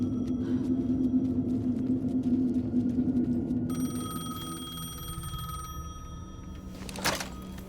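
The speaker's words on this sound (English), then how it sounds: "The payphone was ringing." A payphone rings in the video game Alan Wake 2, a bright electronic ring that cuts in partway through over a low ambient rumble and hum, with a louder burst near the end.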